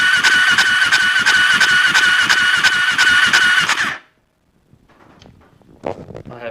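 A Suzuki LTR 450 ATV that won't start cranks on its electric starter for about four seconds, a loud rapid rhythmic churning that never catches, then cuts off to near silence with faint clicks and noises.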